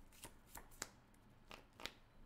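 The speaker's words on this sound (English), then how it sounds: "and that also shuffles my deck" A deck of Magic: The Gathering cards being shuffled at a Legacy tabletop match, heard as several brief, crisp riffling bursts spaced irregularly, fairly quiet with no talk over them.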